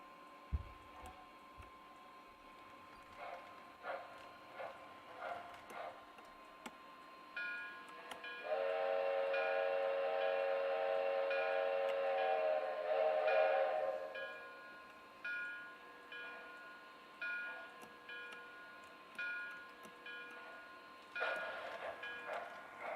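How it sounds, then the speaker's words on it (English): A small model steam train chuffs and clicks softly, then a sustained multi-tone whistle sounds for several seconds before the chugging resumes with occasional higher toots. "We'll run through the sound sequence on the steam engine here too."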